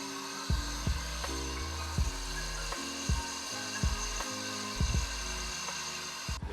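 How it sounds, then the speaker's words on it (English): Hand sanding on a wooden basketball award gives a series of rhythmic, scratchy rubbing strokes about once or twice a second. Each stroke is moderately loud and close, the rasping repeats at a steady pace, and no one speaks. "I'm gonna attempt to sand this and then re-stain it with this orange unicorn spit."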